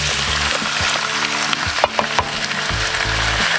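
Squid and prawns sautéing in a hot pan, a steady loud sizzle with occasional stirring clanks and scrapes, close up and continuous.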